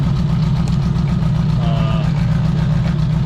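Engine of a 1976 Honda Goldwing motorcycle with a 4-into-1 exhaust and freshly synchronized carburetors, idling smoothly and evenly up close, a steady low throb throughout.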